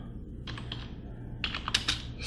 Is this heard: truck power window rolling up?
no